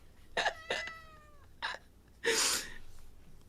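A house cat gives a few short, close meows in quick succession, followed by a brief breathy sneeze-like burst in an otherwise quiet room.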